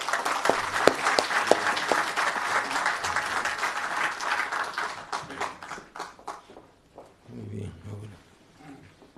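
An audience at an engineering lecture in Peru applauds to welcome the speaker, sustained dense clapping that fades out over several seconds, followed by a voice beginning to speak.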